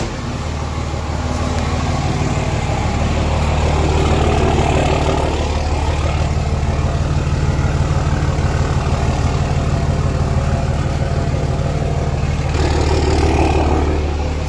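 A Cummins diesel pickup truck with an 8-inch axle-dump exhaust idles steadily with a deep, rumbling exhaust drone that holds constant throughout, loud and close.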